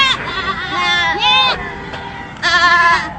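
Goats stranded at the roadside of the Ngawi–Kertosono toll road after a pickup truck accident bleat loudly in several drawn-out, wavering calls, with a background murmur of voices.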